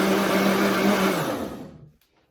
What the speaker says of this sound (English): I decided to add my blender into this mix to get it nice and creamy